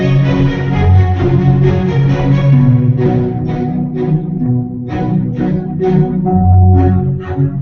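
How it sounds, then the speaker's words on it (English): A harp part from a music production is layered with a short, detached violin staccato melody, both playing together in a dense, rhythmic texture without any talking. "This is violin staccatos, and this is harps."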